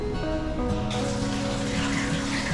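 Steady rushing water fills an enclosed rock cave, a continuous close splashing flow like a running tap or shower, with no speech over it.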